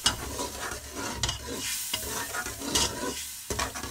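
Ginger-garlic paste fries in a pan while a spoon stirs it, producing close, rhythmic scrapes over a steady sizzle that dips and returns with each stroke.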